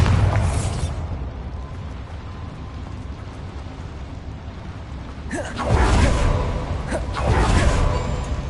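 A Bombarda blasting spell explodes in Hogwarts Legacy inside a small mine, two heavy bursts with a whooshing rush and rumbling debris near the end, after a low ambient drone.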